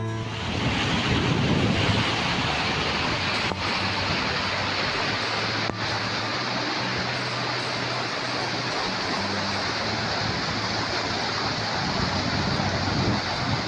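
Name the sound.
Malaprabha river water flowing over rocks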